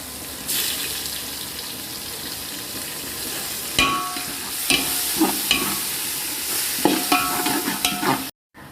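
Sliced tomatoes stirred and frying in a pan, a steady sizzle with scraping spoon strokes and clinks against the pan, ending abruptly.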